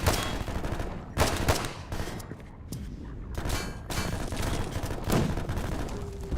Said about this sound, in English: I like how it fires in semi-auto when you're scoped in, but then the rate of fire is a lot higher when you're out of the scope.